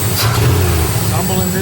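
Rough-running 350 TPI car engine stumbling and missing at idle, a close, uneven throbbing with irregular hiccups, while someone talks over it.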